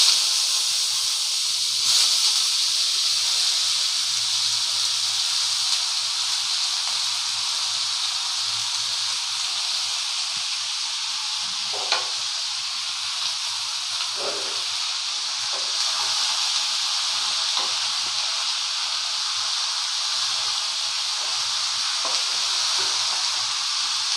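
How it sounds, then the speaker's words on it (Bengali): Panch phoron and ash gourd sizzle in hot oil, a steady, loud, bright hiss that runs unbroken for the whole stretch, with a few faint pops and clinks. "এই তেলের ওপরে দেব পাঁচফোড়ন, দিয়ে আমি চাল কুমড়োটা তুলে দেব।"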